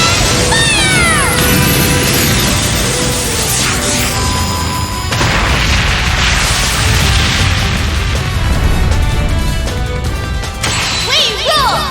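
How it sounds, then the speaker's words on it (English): A loud, dense burst of crackling electronic blasts and booms from an electric cannon in the video game The Legend of Heroes: Trails of Cold Steel II, continuous and layered with synthetic zaps and sweeping tones. "Electric cannon, fire!"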